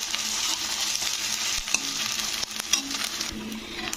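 Ginger-garlic masala sizzles hard in a pan while a spoon stirs it, giving a continuous bright frying hiss broken by irregular scraping knocks.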